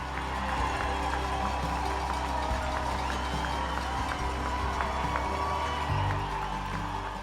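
A large crowd of spectators roars continuously along the last kilometer of the Boston Marathon finish stretch as runners pass, forming a dense, steady wash of cheering with no pauses.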